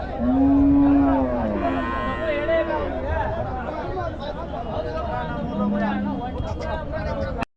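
Cattle, including draught bullocks, moo at the Uthangarai cattle market: one long, loud low moo near the start and a shorter one later, heard over crowd chatter and people talking close by.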